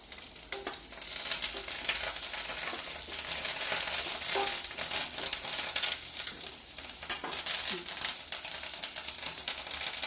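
Curry leaves sizzling and crackling in hot oil as a tempering for dal curry, a steady close frying hiss with sharp spitting pops throughout, no one speaking.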